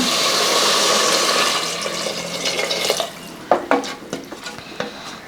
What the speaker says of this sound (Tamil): இது வந்து ரெண்டு டம்ளர் தண்ணி சேர்த்துக்கலாங்க